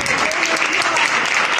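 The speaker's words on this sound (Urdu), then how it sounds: "زوردار تالیاں روح القدس کے لیے بجائیں" A church congregation at an Urdu-language worship service claps loudly and continuously in dense, sustained applause that stays strong throughout, with voices mixed in.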